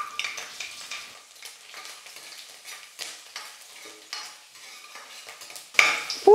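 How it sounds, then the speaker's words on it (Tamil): Mustard seeds, fenugreek and garlic cloves frying in hot oil, a soft sizzle with a utensil stirring and clinking against the pan, ending in a sharper metallic scrape. "இப்போ இது கூடவே ஒரு 15 பல் பூண்டு சேர்த்துக்கிறேன்."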